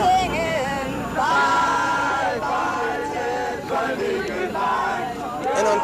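Large crowd gathered outdoors before dawn, people singing and shouting together in a loud continuous hubbub with voices rising and falling over the whole stretch.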